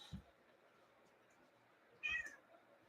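A house cat gives two short, quiet meows, one brief and one a little longer, separated by a pause in a calm indoor room.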